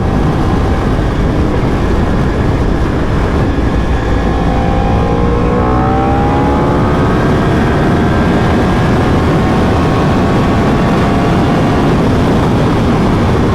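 A Yamaha R1 sport motorcycle's engine roars steadily and loudly while being ridden, with a sustained drone and rising, sweeping pitch as it accelerates, close and overwhelming with no talk.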